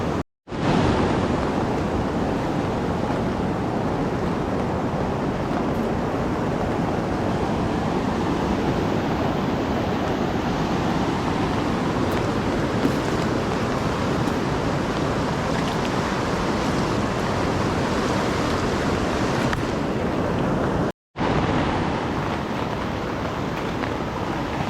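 The flooded Nisdi Khola river rushes past in a loud, unbroken roar of turbulent water, steady and close, with a brief drop-out near the end and no voices.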